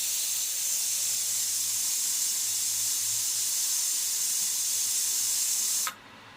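A pressure cooker with fish curry inside, lid locked on, gives a loud, steady steam hiss that runs unbroken for about six seconds and then cuts off abruptly.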